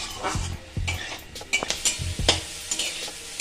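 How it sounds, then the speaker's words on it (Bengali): Onion and capsicum frying in butter give a low sizzle while a spatula clacks and scrapes against the pan in quick, uneven strokes. "ক্যাপসিকাম আর পেঁয়াজটাকে আমি বাটার দিয়ে আলাদা করে ভেজে নিলাম"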